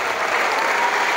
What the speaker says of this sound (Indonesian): Nur Laila, tepuk tangan untuk kakak kita yang sudah bicara hari ini.